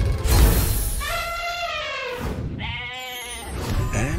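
Goat bleats in two wavering, harmonic-rich calls, the first stretching about a second and a second shorter one following, loud and close over a busy film-trailer soundtrack.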